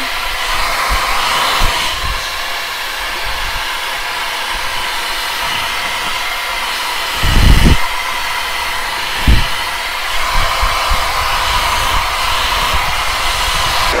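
A hair dryer blows steadily and loudly while drying a bob haircut, a constant airy roar that runs throughout with a few brief bumps and thuds, and no talk.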